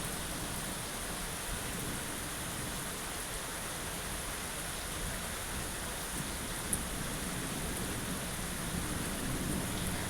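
Heavy rain driven by wind, a constant dense hiss of large drops falling on surfaces with no breaks, steady and fairly close, with no voices.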